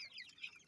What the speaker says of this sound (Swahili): Hawa ni kuku wenye wana machua na miezi 4